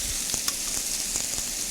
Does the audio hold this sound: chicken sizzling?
yes